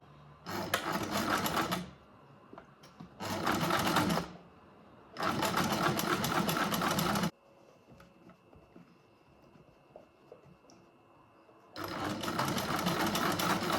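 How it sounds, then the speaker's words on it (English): A sewing machine stitching a denim jacket, running in four loud steady bursts of rapid mechanical chatter separated by pauses of near quiet, close to the listener with no talking. "Yeah, I think I'm just going to sew."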